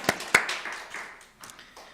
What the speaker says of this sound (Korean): 오늘도 우리 가운데 영광으로 임하신 하나님께 영광의 박수 돌려드립니다.